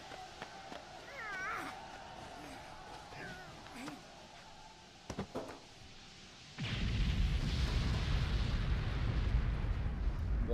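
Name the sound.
bomb explosions in the Wolfenstein anime film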